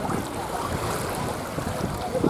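Waves lap and churn on Lake Pisochne in the Shatsk Lakes, a continuous broadband wash mixed with wind noise buffeting the microphone.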